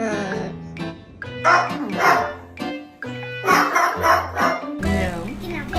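A dog barks and yips in short bursts, close by, with people talking over and between the barks.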